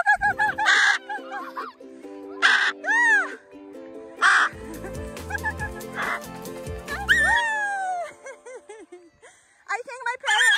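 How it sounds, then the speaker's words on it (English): A pet parrot squawks and screeches in repeated harsh bursts during an indoor race, loud and close, mixed with other bird calls and varied tonal noises. "I think my parrot won, Louie."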